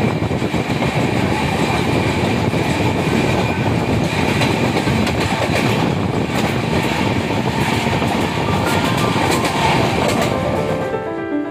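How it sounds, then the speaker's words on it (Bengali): A night passenger train running after leaving Sealdah station, a loud continuous rumble with rhythmic clickety-clack of wheels from inside the carriage, steady throughout with no voices. "ঠিক রাত্রি 10:55 আমাদের ট্রেন শিয়ালদহ স্টেশন ছেড়ে চলল তার গন্তব্যে।"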